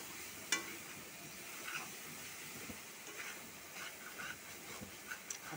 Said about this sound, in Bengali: মশলা তেল ছেড়ে যাচ্ছে, তারপর এখন মাংসটা দিয়ে দেবো।